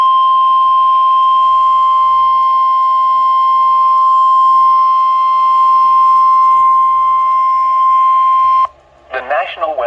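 A loud, steady Emergency Alert System attention tone on NOAA weather radio holds for about nine seconds, then cuts off, and a short burst of synthesized warble follows.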